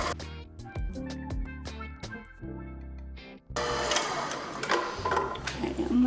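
An electric mixer on slow speed mixes powdered sugar into vanilla cupcake frosting, starting with a whirring, uneven motor hum that shifts into a denser, grittier churning as the sugar incorporates, close and continuous.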